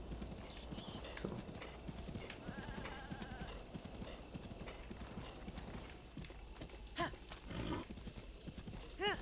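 A horse gallops across open terrain in Zelda: Breath of the Wild, its rhythmic clip-clop hoofbeats steady and continuous, with a brief whinny, quiet game ambience and some talking in the background.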